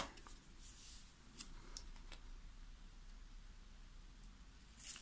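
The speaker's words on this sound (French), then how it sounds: "je vais couper ici. Couper ici juste le petit coin." Scissors snip the corner of a folded paper card for a handmade light-up greeting card, a few faint, quiet cuts and paper rustles in a calm room.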